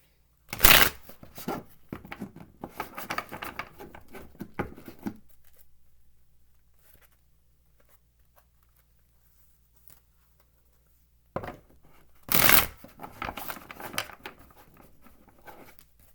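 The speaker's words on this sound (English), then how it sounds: "let's shuffle these cards" Two bursts of tarot card shuffling, each a sharp riffle followed by several seconds of softer sliding and tapping, separated by a long quiet gap.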